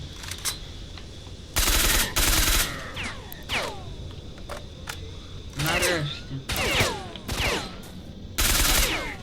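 Bursts of automatic gunfire in S.T.A.L.K.E.R.: Shadow of Chernobyl, several loud volleys separated by short pauses, with a brief spoken word in between.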